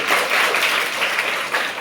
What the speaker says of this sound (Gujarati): હા, જોરદાર તાળી.